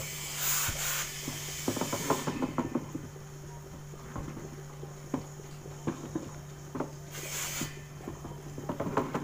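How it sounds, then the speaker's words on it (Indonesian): Homemade liquid laundry detergent thickens in a container as it is stirred, giving soft scraping and tapping strokes over a steady low hum, with two short hissy bursts near the start and end. "Terus kita aduk. Ini hasilnya akan mengental."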